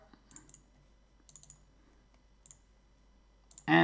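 A computer mouse gives soft, sparse clicks at intervals while a star icon is clicked in an After Effects extension, and a louder burst comes in at the end.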